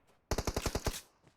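Automatic gunfire in the mobile battle royale game PUBG Mobile: a rapid burst of about eight loud, closely spaced shots lasting under a second, then quiet.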